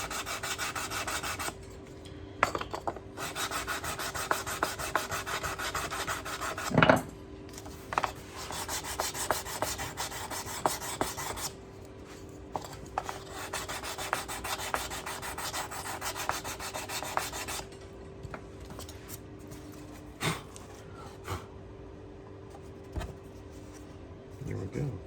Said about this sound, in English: clean this up with a little bit of sanding